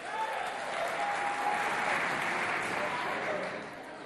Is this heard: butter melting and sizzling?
no